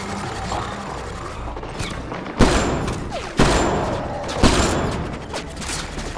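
Heavy turret fire in a Mass Effect Andromeda battle hits as three loud booming blasts a second apart, each trailing into a rumbling wash over a constant background of combat noise.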